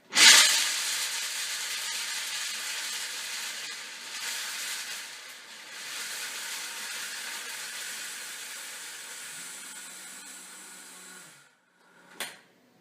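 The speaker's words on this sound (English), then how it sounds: "So I'm going to blend it here." A blender whirs loudly grinding almonds into almond flour, a steady high hissing roar that dips once and resumes before cutting off, followed by a brief clunk.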